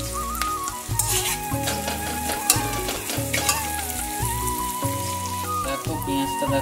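Onions fry and are stirred in a pan, a close, continuous sizzle broken by scraping stirs, with background music running underneath.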